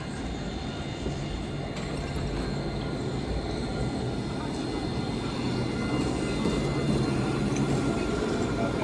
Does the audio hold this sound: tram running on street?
yes